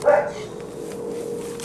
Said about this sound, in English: dog. Not happy, is he?